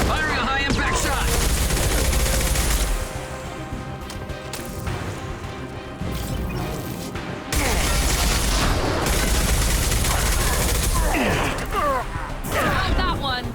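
Loud bursts of heavy gunfire and booming impacts from a high-impact shot in the sci-fi shooter Mass Effect 2, with dense, layered blasts, a quieter lull in the middle, and game music and effects underneath.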